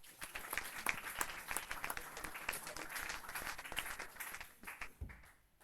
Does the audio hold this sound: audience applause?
yes